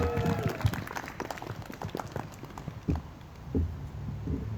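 Audience applause for skit performers at a clean-energy launch gathering, a small crowd clapping unevenly in scattered bursts, moderately close and fairly quiet.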